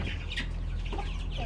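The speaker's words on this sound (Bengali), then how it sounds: "মোরগ আছে 3টা, 2টা মোরগ বিক্রি হবে।" Roosters on a small poultry farm give short, soft clucks against a steady low background hum, with no talking.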